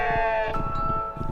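Sheep bleat on a mountainside near a summit camp, a few wavering calls layered close and clear over steady outdoor background noise, with no talking.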